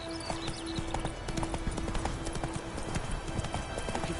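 Hooves of Roach, a horse in a video game, clip-clop in a quick steady rhythm of sharp knocks over a background drone, with a brief whinny near the start.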